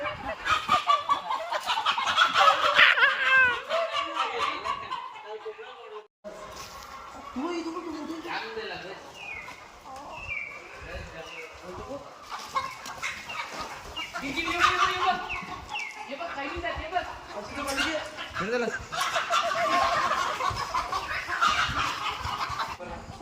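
Chickens clucking and squawking throughout on a poultry farm, busy and fairly close, with other farm noises and some voices mixed in.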